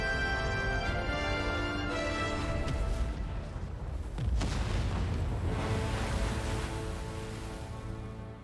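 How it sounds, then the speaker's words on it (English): A close explosion in the video game Genshin Impact, a loud deep boom that swells around the middle of the clip over ongoing game sound and music, then slowly fades. "How do we survive explosion that freaking close?"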